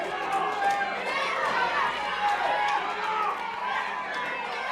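A wrestling crowd cheers and chants for Dreamer, a steady roar of many voices at moderate level throughout, with a commentator talking over it.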